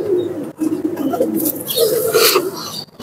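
Female teddy pigeon of the bullet teddy type, held in the hand, cooing in low repeated throaty coos, close and loud.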